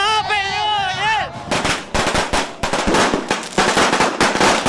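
New Year's firecrackers in Tondo, Manila: a rapid barrage of sharp bangs crackles continuously after a brief tonal sound at the start, loud and dense with overlapping pops.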